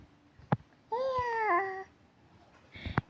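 A young child imitates a cat's meow with one drawn-out, rising-then-wavering vocal mew in the middle, framed by short thumps and faint background noise.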